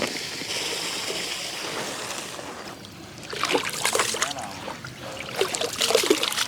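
Water drains and trickles out of soaked, washed rice being strained in a large village kitchen batch for biryani, a continuous splashing pour with louder gushing bursts toward the end.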